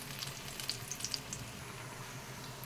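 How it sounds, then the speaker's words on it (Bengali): Rounds of battered capsicum pakora fry in hot oil, a faint steady bubbling sizzle with a few light crackles and pops, no voices. "এরকম সুন্দর করে গোল গোল করে তেলেতে দিয়ে দিচ্ছি"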